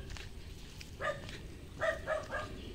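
A dog barks a few times at a distance among houses in a neighborhood, short sharp yelps over a low steady background hum.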